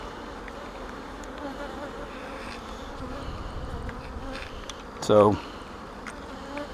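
Honey bees around a beehive make a dense, continuous buzzing swarm close by, with a brief louder knock and a short spoken word partway through.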